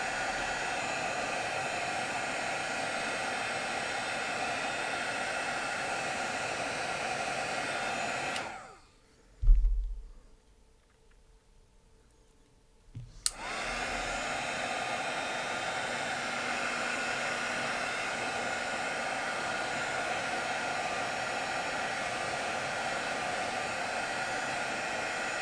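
An embossing heat tool blows a loud, steady whooshing drone while melting embossing powder. It cuts off for a few seconds, then restarts and runs evenly to the end, with no voices.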